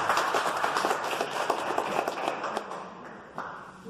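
An audience at a teachers' award ceremony applauds, a steady dense wash of clapping from many hands throughout.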